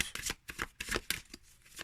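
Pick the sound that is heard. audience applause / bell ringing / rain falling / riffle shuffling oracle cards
riffle shuffling oracle cards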